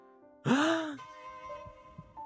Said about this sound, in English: There's that breathing again.